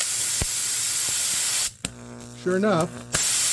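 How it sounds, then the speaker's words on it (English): An air compressor nozzle blows air in loud hissing bursts, a long steady spray that stops, then a short tonal whistling blast and another hiss, with a brief spoken phrase in between. "If I take my air compressor,"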